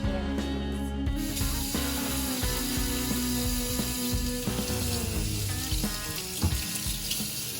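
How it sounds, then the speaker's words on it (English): Tap water running over blanched wild game bones in a sink as they are rinsed for bone broth, a loud continuous splashing gush with metallic clinks throughout, close and steady with no voices. "Okay, so we have just blanched the bones. Now we need to rinse everything off."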